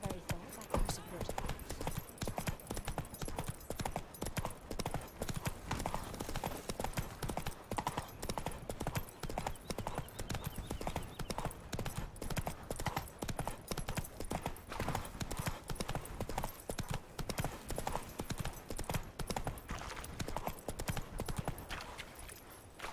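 Roach the horse gallops in The Witcher 3, with a rapid, unbroken drumming of hoofbeats sustained throughout, loud and close, and a voice heard briefly over it.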